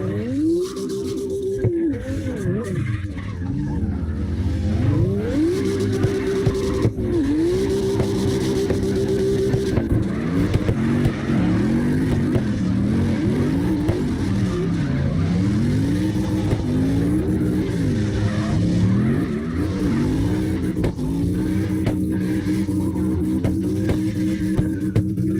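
Several cars drift in tandem in CarX Drift Racing Online, three engines revving and wailing together with constant rising and falling pitch, loud and continuous throughout with a voice talking faintly underneath.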